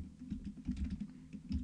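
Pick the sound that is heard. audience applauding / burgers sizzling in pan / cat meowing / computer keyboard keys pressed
computer keyboard keys pressed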